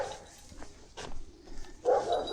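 A German shepherd gives a few soft, muffled barks and yips at a distance, spaced out over a quiet background.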